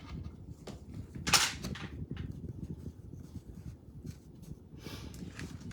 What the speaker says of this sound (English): So I've got my staple gun.